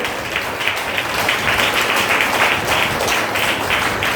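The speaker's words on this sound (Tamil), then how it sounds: "நல்ல கைத்தட்டி ஆண்டவரை மகிமைப்படுத்துங்க." A congregation claps hands in praise during a Tamil Sunday church service, a loud, busy stretch of many hands beating quickly and unevenly, sustained throughout with crisp individual claps poking through the crowd sound.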